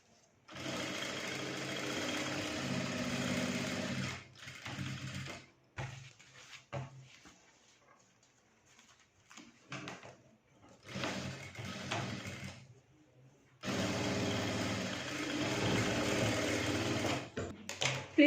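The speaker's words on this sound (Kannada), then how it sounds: "ನಾನು ಫಸ್ಟು ವೇಸ್ಟ್ ಬ್ಯಾಂಡ್ನ ಸ್ಟಿಚಿಂಗ್ ಮಾಡ್ಕೋತೀನಿ" A sewing machine stitches the waistband of a child's pleated skirt in several rapid, whirring runs, separated by short pauses filled with quiet handling and fabric shuffling.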